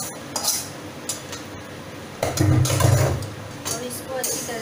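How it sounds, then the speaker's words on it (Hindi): Sugar syrup is stirred into a Janmashtami bhog mixture in a pan, with a close scraping, sloshing stir and clinks of a spoon against metal that thicken into a denser churn midway. "और इसको अच्छी तरह से मिक्स कर दूंगी।"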